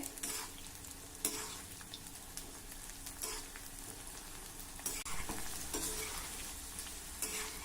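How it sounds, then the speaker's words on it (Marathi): Okra and cluster beans frying in hot oil, a steady close sizzle with occasional louder crackles and stirring clatters, no talking. "हे बघा ही भेंडी जरा तळून झाली आता यामध्ये थोडे गवाराच्या शेंगा देखील घालू"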